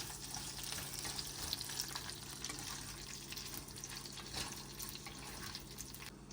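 Onions sautéing in a pan, a steady close hiss of frying with faint stirring and scraping, continuous and even throughout with no talking.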